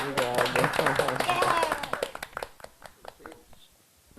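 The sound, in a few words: audience clapping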